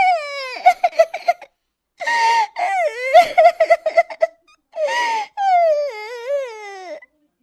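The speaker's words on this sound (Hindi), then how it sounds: "इस जंगल में भला किसी के रोने की आवाज?" A person crying in a forest: repeated wailing, sobbing sobs in several bursts with pauses between, fairly close and loud, with no other speech.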